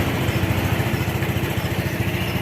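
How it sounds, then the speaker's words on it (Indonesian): A fuel-injected motorcycle engine idles steadily with its battery disconnected, a close, loud, even chugging pulse with a constant running drone and no voices. "kalau dihidupkan tetap motornya hidup tanpa aki"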